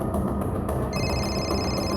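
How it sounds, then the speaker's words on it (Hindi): A telephone rings with a bright electronic trill over a low background hum. "सर, नेहा का फोन"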